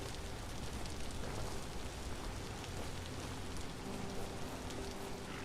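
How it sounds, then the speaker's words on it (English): Steady rain falls continuously in the survival game Vintage Story, a soft, even patter on surfaces with no voices, faint and unbroken throughout. "Non-stop rain around here for a while."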